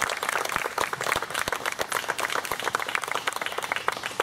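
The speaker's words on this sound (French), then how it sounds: "On peut les applaudir aussi." Wedding guests in Rosemère applaud a musical trio, a steady patter of individual hand claps with some sharp, distinct claps standing out across the whole stretch.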